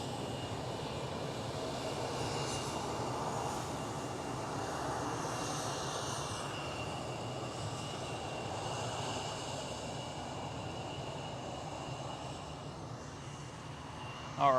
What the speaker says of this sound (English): And the KLM City Hopper E175